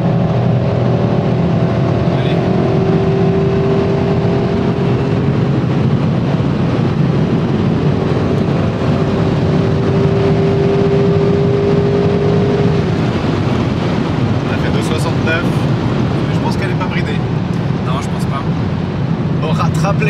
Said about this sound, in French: c'est la première fois que je vais à 200 dans une voiture que je conduis